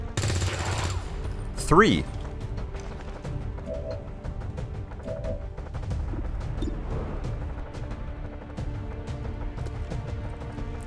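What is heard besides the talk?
gunfire in video game XCOM 2: War of the Chosen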